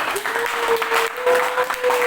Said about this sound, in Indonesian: Mari kita beri tepuk tangan untuk ketua OSIS